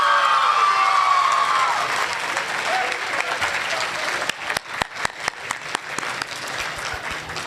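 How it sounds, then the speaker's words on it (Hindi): A mushaira audience in Faisalabad breaks into loud, sustained applause filling the hall, thinning toward the end into scattered individual claps. "एक बार अपने शहर के लिए ताली बजाएं।"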